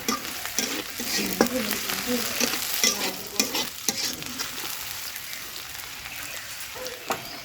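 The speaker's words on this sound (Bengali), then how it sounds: "তিনটা সাদা এলাচ কিছুক্ষণ ভেজে নিব" Three white cardamom pods frying in oil in a village kitchen, a close crackling sizzle with stirring clacks and scattered pops, fading slightly toward the end, no talking.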